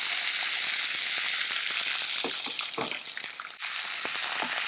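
Drumstick leaves sauté in hot chilli-flavoured oil, giving a dense, continuous hiss of frying with light stirring pops, close and fairly loud, briefly dipping near the end.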